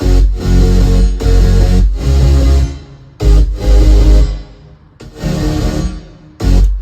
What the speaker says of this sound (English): It's a choir, a piano, and then some saw layers.